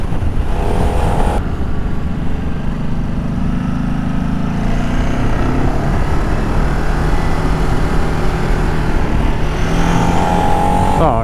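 A 13-year-old Ducati motorcycle engine revs loudly and steadily, stuck at around 7,000 revs. The harsh, continuous drone stays close and alone the whole time, with slight shifts in pitch.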